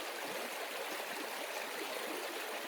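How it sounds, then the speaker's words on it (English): A creek at Big Hill Springs flows around a boulder. Its water makes a steady, dense rush and gurgle that fills the whole clip, close up and without voices. "And then this creek goes around the boulder, and then it does a little loop."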